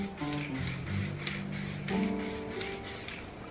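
Copper rose aerosol paint is sprayed onto car wheels in a steady close hiss broken into short pulses, with a faint tonal hum running underneath and no talking.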